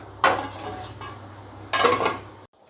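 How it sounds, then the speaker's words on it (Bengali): A lid set onto a cooking pot of soya chunk curry: two clattering metal contacts, a sharp clank near the start and another about 1.5 seconds later, close and moderately loud over quiet background hum. "এবার আমি ঢাকা দিয়ে দেবো সেদ্ধর জন্যে"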